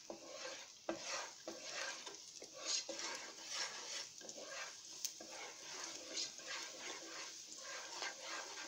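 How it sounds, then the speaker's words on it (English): Garlic gets stirred in a pan, a close, quiet sizzle broken by rhythmic scraping strokes of a utensil against the pan, with no talking. "Stir the garlic."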